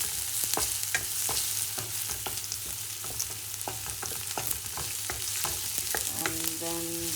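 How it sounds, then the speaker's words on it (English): Onions sauteing in a pan for prawn curry, a steady close sizzle of frying with repeated clinks and scrapes from stirring throughout, no voices. "Now you saute the onions till they start sweating a bit."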